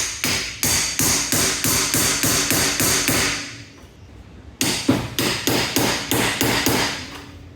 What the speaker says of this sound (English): I've managed to get started with the cold chisel, separating this out